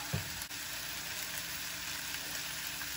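Roast pork topped with two slices of provolone cheese cooking on a griddle, a steady low sizzle running through with no talk over it.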